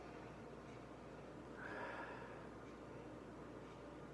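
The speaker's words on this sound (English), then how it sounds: "So let's give this a sniff and see what we got." Someone sniffs a glass of Baker's 7 bourbon with one short, close nasal inhale, faint against quiet room tone.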